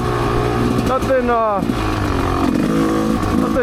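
A Rieju MRPro 300 dirt bike's engine drones loud and steady while riding off-road on a trail in Illinois, with rising revs midway, and someone talks over it.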